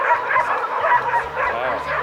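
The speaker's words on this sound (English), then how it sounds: "Wow, the dogs are going crazy." Several dogs bark and yip around a hotel rooftop overlooking the Giza pyramids in Egypt in the early morning, a dense, continuous chorus at moderate distance with no pauses.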